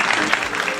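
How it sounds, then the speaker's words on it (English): Brief burst of studio audience applause for four remaining couples on a game show, a dense, steady wash of many hands clapping at once, fairly loud and close. "Ladies and gentlemen, a nice round of applause for our 4 remaining couples as we enter lucky hour number 13."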